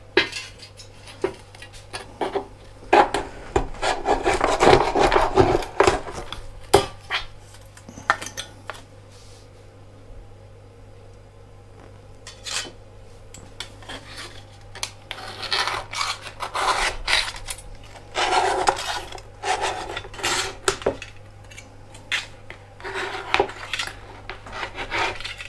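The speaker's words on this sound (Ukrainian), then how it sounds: "Зараз я наріжу, поріжу сталь, оцей метал" A knife scrapes and saws through thick profiled steel sheet in irregular bursts of rasping, grating metal strokes, close and fairly loud, separated by short pauses.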